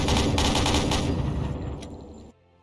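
A submarine deck gun fires armor-piercing rounds in the U-boat game, a dense loud rapid burst of booming shots over about two seconds that cuts off abruptly into quiet.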